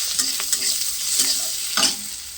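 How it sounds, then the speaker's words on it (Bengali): Onion and green chili being stirred into fried neem leaves in a pan, a steady sizzle with a few scraping strokes of the spatula, close and alone with no voices. "এই পেঁয়াজ আর কাঁচা লঙ্কাটা আমি মিশিয়ে নিচ্ছি"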